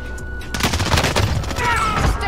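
Rapid sustained gunfire in Call of Duty Warzone: dense bursts of automatic shots crackle loudly and continuously across the moment, with a voice faintly mixed in.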